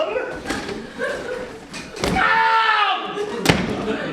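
A heavily abused stage door in a theatre production of The Play That Goes Wrong is slammed, giving a sharp loud bang, then a second hard thump moments later, with voices and stage noise around it.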